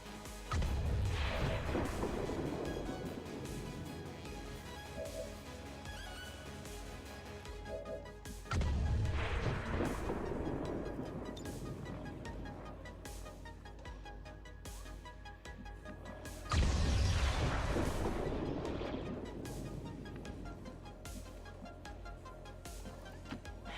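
Grenade blasts in the strategy game XCOM 2: War of the Chosen, three loud booming explosions spaced several seconds apart, each with a sharp crash followed by a long rumbling decay over game background sound.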